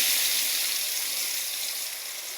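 Ground spice paste lands in hot oil with a loud, bright, steady hiss that tapers slightly as it settles. The sizzle is close and no voice accompanies it.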